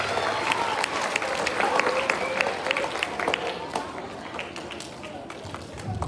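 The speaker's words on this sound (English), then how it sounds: "Our 5th grade a big round of applause." An elementary school audience at a fifth-grade Veterans Day program claps in a dense, sustained burst of applause, with crowd murmur underneath, slowly easing off toward the end.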